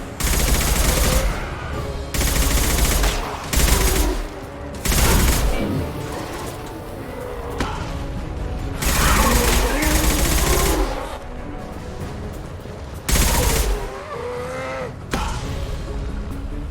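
Repeated bursts of gunfire and impact blasts from the Impact Shot power in Mass Effect 2 combat, loud and dense, mixed with game effects and a voice calling out.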